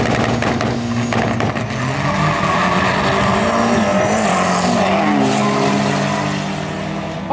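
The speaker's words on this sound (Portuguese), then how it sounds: "vamos ver o cadetão do Gustavo agora acelerando" A turbocharged Chevrolet Kadett drag race car at a drag strip launches and accelerates hard, its engine roaring loudly and steadily for several seconds with tire noise, close and with no talk over it.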